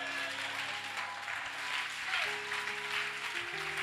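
A church congregation claps and cheers in a steady, dense wash of applause that fills the room, with sustained keyboard chords holding and shifting underneath throughout.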